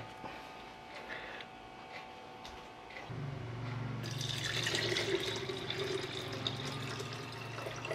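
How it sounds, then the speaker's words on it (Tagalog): Water is poured into the tank of a steam cleaner under repair, first quietly, then a louder splashing, trickling flow that starts abruptly partway through and keeps running close by to the end. "Lagyan natin siya ng tubig."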